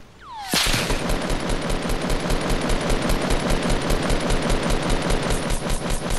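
Sustained automatic gunfire from Fortnite Battle Royale, a rapid, steady stream of loud shots running nearly unbroken for about six seconds after a sharp onset.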